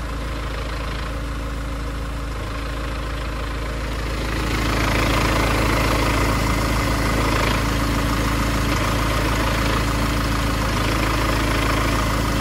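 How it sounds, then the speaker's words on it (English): A Mercedes A180 CDI diesel idles steadily with a constant low rumble and an underlying clutch noise, growing slightly louder partway through, with no talking. "does anybody know why my clutch is making this noise?"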